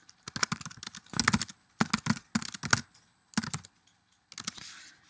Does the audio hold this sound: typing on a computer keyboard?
yes